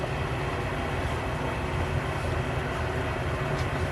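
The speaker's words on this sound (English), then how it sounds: "That starts the spindle." A metal shaper running after its spindle starts, cutting steel, giving a steady, continuous low mechanical rumble and hum with an even texture, fairly close and with no talking.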